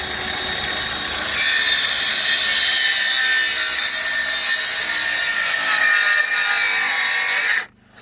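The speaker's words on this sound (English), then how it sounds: "So you can see here where the saw is coming down," An 18 volt cordless circular saw, not the brushless model and running on a partly charged battery, cuts through wood with a loud, continuous, raspy whine that stops abruptly near the end.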